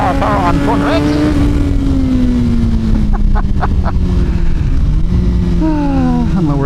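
A Suzuki GSXR 1000R motorcycle engine pulling hard under throttle out of a corner, a loud close whine rising and shifting pitch with gear changes, with a voice over it.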